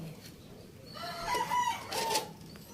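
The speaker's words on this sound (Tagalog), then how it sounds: "tilaok ng tilaok ang manok" A rooster crows at a moderate distance, one drawn-out call in two parts standing out over quiet rural background noise.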